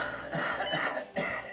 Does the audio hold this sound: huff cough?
yes